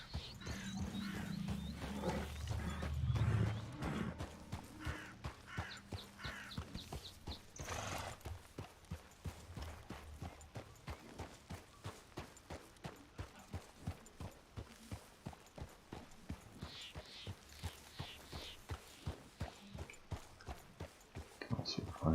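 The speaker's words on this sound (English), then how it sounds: "Also find a unique horse up in here." An Arabian horse in a video game gives a loud whinny, then its hooves clip-clop in a steady walking rhythm, with another neigh near the end and a faint voice at times.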